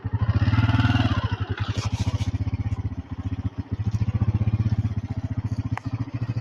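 A motorcycle engine idling nearby with a rapid, steady putter that briefly falters and stutters midway, then picks back up. The bike is faulty and won't run right, and faint clatter comes in over the engine.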